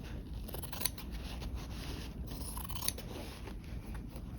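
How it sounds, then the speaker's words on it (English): Long scissors cut through canvas with a steady, quiet rustling slice and two sharper snips, close and alone with no talk. "the beauty of using a long scissor is you can get a long, smooth cut"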